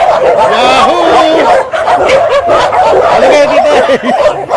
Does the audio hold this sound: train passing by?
no